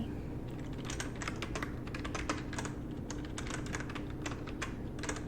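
Computer keyboard typing in quick, steady bursts of close, crisp key taps, continuous throughout over a soft background hiss, with no voices.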